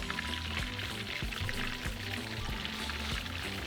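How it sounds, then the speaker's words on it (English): Salt poured into a pot of hot water on a kitchen stove before cooking spaghetti, a steady granular pour lasting several seconds, close and fairly loud over a low hum. "So now we're going to add some salt."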